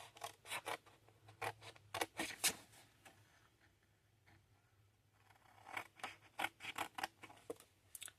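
Paper squares being snipped off a 4 x 4 folio album with scissors, a run of crisp close cuts in quick bursts, then a quiet pause before another series of snips.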